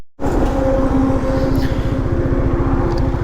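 Steady drone of a Husqvarna Svartpilen 250 motorcycle cruising on a long highway ride, engine note held constant with wind rush, loud and close throughout.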